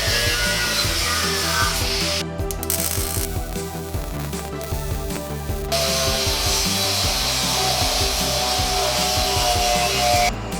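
A metal part on a chopper motorcycle build is cut with a power tool in a workshop, a loud continuous grinding rasp with short pauses and rhythmic pulsing strokes, no talking.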